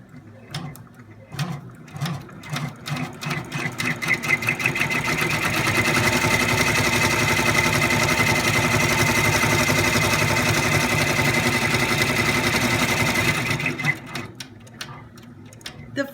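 Sewing machine stitching a placement stitch on fabric, a rapid continuous whirring and clatter running for about eight seconds, with softer handling sounds and a few short bursts of stitching before and after.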